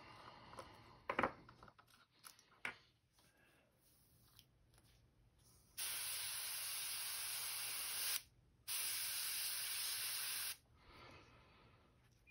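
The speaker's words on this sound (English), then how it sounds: "Putting a little bit in my airbrush." An airbrush sprays paint onto a Wiggle Wart crankbait fishing lure, giving two steady hissing passes of about two seconds each, preceded by quieter handling clicks and rustles.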